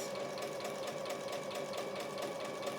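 Quilting with a sewing machine fitted with a walking foot: a steady, rapid mechanical stitching rhythm runs continuously at moderate volume, close by.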